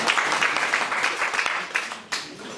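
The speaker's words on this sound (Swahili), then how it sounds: "simwapigie makofi" Guests at a wedding clap for the school teachers and staff, a dense, steady patter of many hands that thins briefly near the end before a final burst.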